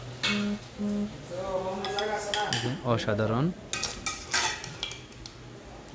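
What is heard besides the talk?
cooked crab curry transferred from wok to bowl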